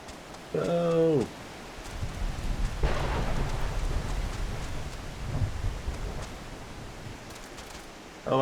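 A rain and thunderstorm in the Final Fantasy XIV game world, with steady hissing rainfall and a low rumble of thunder rolling through the middle, after a brief voice near the start.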